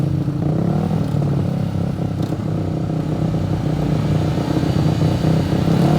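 Racing motorcycles rev together on the starting grid before the green flag, a loud, continuous, layered engine drone that holds steady without a break, with no talk over it.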